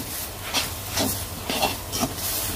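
Red amaranth greens boil in a pot with a steady, close hiss and bubbling, and soft pulsing swells rise through the simmer about every half second.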